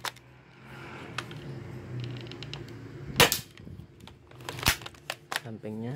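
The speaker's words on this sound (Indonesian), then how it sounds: "Tembakan kedua." A few sharp, snappy shots from a custom KAC PDW spring-powered airsoft rifle, close by, separated by seconds, with mechanical clicks and faint background noise.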